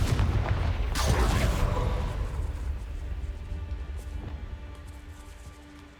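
A Confringo blasting spell explodes in the Hogwarts Legacy video game, a loud broadband boom that swells about a second in and then rumbles and decays gradually over several seconds, with no talking.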